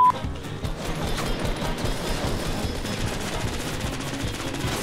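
Rapid automatic gunfire from a small weapon in the video game Fortnite Battle Royale, sustained bursts of shots crackling steadily for the whole stretch at a fairly even loudness.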